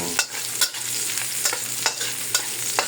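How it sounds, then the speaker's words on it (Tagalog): Garlic sautés in a pan at the start of beef adobo, a steady close sizzle broken by several sharp scrapes and stirs at irregular intervals. "Ito, gisa na natin."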